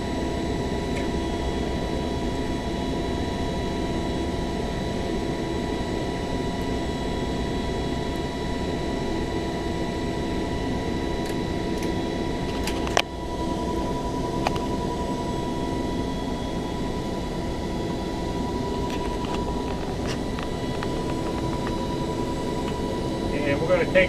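C-130 aircraft engines in a flight simulator game drone steadily throughout, a constant turboprop hum with a few faint clicks and one sharp tap, while a person talks over it.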